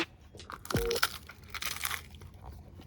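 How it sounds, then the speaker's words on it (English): A single sharp crunch as someone bites into crisp pizza crust, close and quiet, followed by softer chewing and rustling. "Listen to the crunch."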